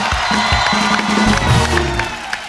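A television studio audience cheers and whoops loudly for Neha Kakkar on The Kapil Sharma Show, with clapping mixed into the noisy, energetic roar.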